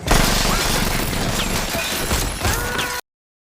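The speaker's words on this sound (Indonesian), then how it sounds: "pria tua itu mengabaikan peringatan It dan mulai menembak" Gunshots crack out amid clattering, metallic mechanical noise, a few sharp bursts standing out over a busy, continuous din.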